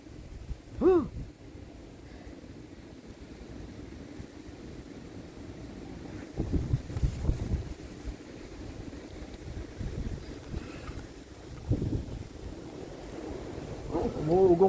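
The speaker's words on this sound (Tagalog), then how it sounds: "Umuugong pa. Talaga naman sa lakas ng hangin na kasama." Strong wind roars through a Montreal snowstorm in gusty surges that build and ease, rumbling and buffeting outdoors with faint voices now and then.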